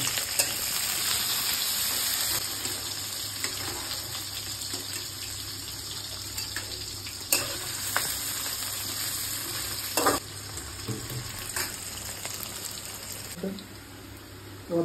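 Dried chilli, cumin, cloves and ginger frying in hot oil give a continuous close sizzle and crackle, with occasional stirring clatters and pops breaking through.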